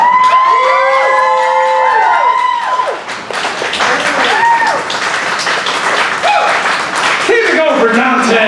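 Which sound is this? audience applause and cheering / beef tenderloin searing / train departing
audience applause and cheering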